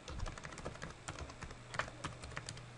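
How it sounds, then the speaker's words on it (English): Soft, rapid keystrokes on a computer keyboard while entering a mail server name during an Outlook 2007 setup, an irregular patter of close, quiet clicks with no voices. "So here we can type"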